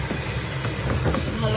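Native chicken pieces, marinated in yogurt, turmeric and salt, sizzle and sauté in a hot pan, giving a steady, close, continuous hiss of frying with no pauses.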